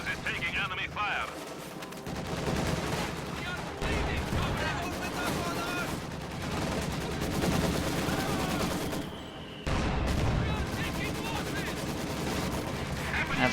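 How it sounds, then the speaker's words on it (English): Sustained gunfire and machine-gun bursts striking a headquarters during a battle in the strategy video game Reign, dense and continuous with heavy impacts, mixed with voices talking over the fighting. "Our headquarters is taking enemy fire."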